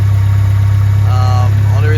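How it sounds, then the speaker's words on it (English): A Mitsubishi Eclipse 420A engine idles with a loud, steady low hum and even pulsing, while a voice speaks briefly over it near the end. "This is the 420A engine. Just wanted to show you guys it running"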